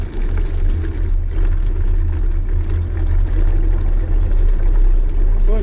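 Used black engine oil drains from a 2016 Ford F150 2.7 EcoBoost V6 after 9,000 miles, a loud, steady, continuous pouring rush over a low rumble, without a break.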